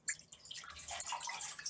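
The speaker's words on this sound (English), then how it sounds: "So I'm going to be pouring in water" A few drips, then a brief stream of water splashing and trickling into a metal pan in an oven, poured to make steam for cooking Nigerian moin moin, soft and close.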